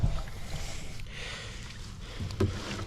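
Water rushing from a hose connection on a hay unroller mounted to a front end loader, a steady close splashing flow with a couple of low thumps.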